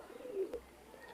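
A Teddy 128 pigeon, a female held in the hand, gives a single soft, low coo, faint and brief against quiet room noise.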